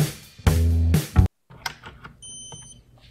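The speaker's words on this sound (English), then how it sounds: "So you'll see your buzzer going on and then it goes off, and then LED goes on and then it goes off." Electronic buzzer on a Raspberry Pi Pico circuit sounding in loud on-off beeps, two strong buzzes with a short gap, then silence and faint clicks and small tones.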